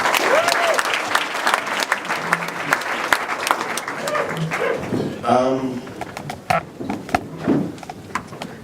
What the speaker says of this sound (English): So give yourselves a round of applause to start.